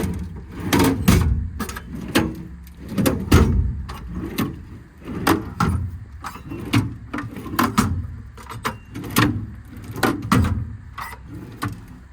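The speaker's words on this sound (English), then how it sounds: "One full set American Eagle twist lock drawers." American Eagle twist-lock drawers on a 14-foot Stellar TMax service body of a 2017 Peterbilt 337 truck, worked in a series of close metallic clunks, slides and latch clicks at a steady, repeating pace.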